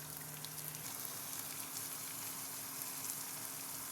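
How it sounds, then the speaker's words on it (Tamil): Garlic, ginger and onion sauté in a pan with a faint, even hiss that stays steady from start to finish, with no clear stirring strokes. "போட்டு வதங்கின உடனே நம்ம கட் பண்ணி வச்சுருக்கிற வெங்காயத்தை போட்டுக்கலாம்"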